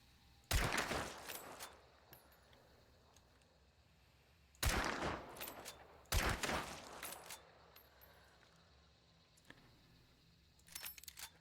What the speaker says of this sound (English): I shoot him in the head twice.